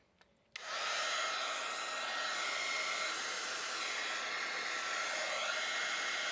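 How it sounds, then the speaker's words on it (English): A heat gun blasts hot air over shrink plastic, snapping on after a faint click and then holding a loud, steady, unbroken whoosh that goes on without any talk. "I'm just gonna hold the heat gun"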